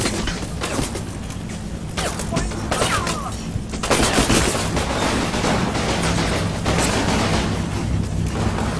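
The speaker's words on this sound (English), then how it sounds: "Here comes the 105 mil, and I'm just gonna blow up this whole floor" A 105 mm gun in the Combat Mission World War II strategy game fires and blows out a building floor, with a rapid string of loud bursts and rumbling explosions, then a denser volley of crackling fire and booms.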